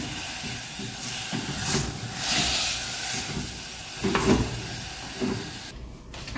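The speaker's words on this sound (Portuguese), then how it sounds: "Aqui nessa panela eu vou refogar abobrinha e repolho." Zucchini and cabbage sautéing in a pan give off a loud, continuous sizzle and steamy hiss that rises and falls in waves, with occasional sharper crackles.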